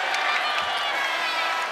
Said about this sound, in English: And another round of applause for Cooper Josephsberg